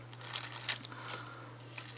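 Two plastic zip bags holding miniatures, unpacked from a box, are handled close by with soft intermittent crinkles and rustles over a low steady electrical hum.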